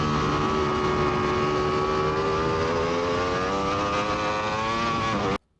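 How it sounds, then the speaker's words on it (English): A racing motorcycle on a track accelerating hard at full throttle, its engine a loud, steady, high-pitched howl with tone climbing gradually over several seconds before cutting off abruptly near the end. "I get on the throttle a lot harder."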